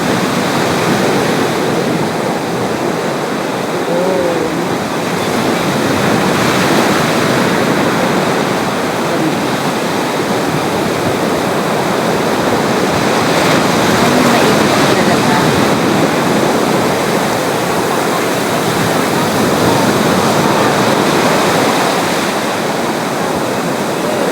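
Strong sea waves crash and roll continuously, a dense, loud surf roar that stays steady throughout with no talk.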